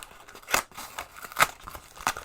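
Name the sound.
opening a mystery football shirt parcel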